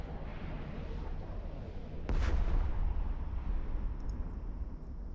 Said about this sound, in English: Much better explosions than they used to be.